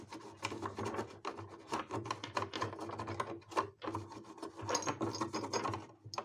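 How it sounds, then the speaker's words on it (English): A cloth wiped firmly across a surface, making close, continuous rubbing and rasping strokes that rise and fall in a fairly steady rhythm with brief pauses. "We're going to start wiping this out."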